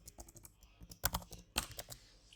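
Typing on a computer keyboard while entering text into an Angular web application, heard as a quiet, irregular run of close clicks with two louder bursts of keystrokes, no talking.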